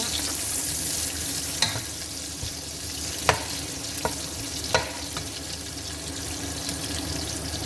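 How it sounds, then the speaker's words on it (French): Onions sautéing in a pan for a vegetable and pea sauté, a steady close sizzle with a few sharp clicks of a utensil against the pan and faint watery sounds underneath, no voices. "il faut faire rissoler les oignons dans un premier temps"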